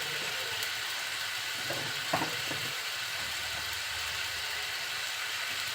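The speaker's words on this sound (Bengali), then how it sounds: "মশলাটা খুব সুন্দরভাবে আগে একটু কষিয়ে নিচ্ছি" Ground coriander, chili and cumin frying in oil in a pan, a steady soft sizzle running throughout with a few faint stirring scrapes near the middle, no voices.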